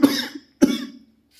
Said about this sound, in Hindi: खांसी नहीं जा रही है